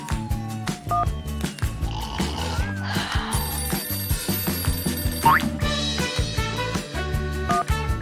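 A toy telephone rings with a repeating electronic bell tune over bouncy children's play music, loud and close, with no talking.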